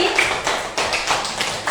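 A small group claps hands in a classroom, the claps coming as a scattered, fairly steady patter for under two seconds with no talk over it.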